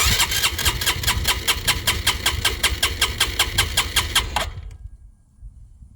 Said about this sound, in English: Turn the ignition on, open your throttle fully, and then hit the starter motor for about 5 seconds.